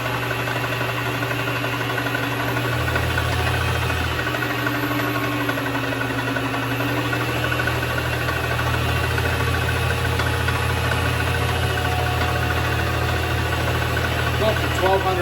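A Vevor MX 400 mini lathe motor runs up toward 1200 RPM, giving a steady, continuous mechanical hum with a faint whine that shifts pitch partway through, close and constant the whole time.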